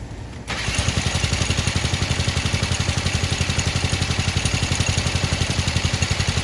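A small mini bike engine catches after a brief pause and settles into a loud, close, rapid and even putt-putt idle that carries on steadily.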